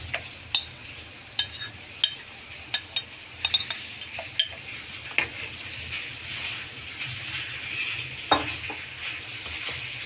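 Gram flour batter with chopped onion, green chilli, coriander and spinach being mixed for bread pakora, heard as soft wet stirring with scattered sharp clinks of a utensil against the bowl, fairly close and with no talking.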